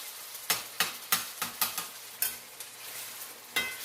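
Broth being stirred in a pan, a series of close, sharp utensil scrapes and taps in an irregular rhythm over a faint sizzle, no talking.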